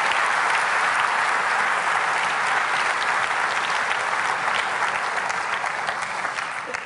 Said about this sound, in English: Ladies and gentlemen, a big round of applause for our customer panel.